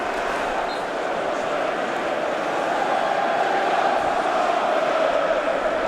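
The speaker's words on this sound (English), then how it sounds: "The noise you can hear coming from the Hull City fans away to my left-hand side." Hull City away supporters roar and chant inside the stadium during a Championship match against Coventry City, a dense, steady crowd wash that swells slightly and carries on without a break.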